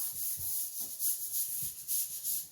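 The back of a cut paper print is rubbed by hand, giving soft, repeated scratchy strokes in an uneven rhythm, close and fairly quiet.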